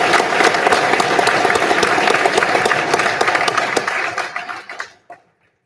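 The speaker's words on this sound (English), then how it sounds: "let's give him a hearty clap" Audience applause at a police academy class graduation ceremony, a dense burst of many hands clapping close and steady, thinning out and stopping abruptly near the end.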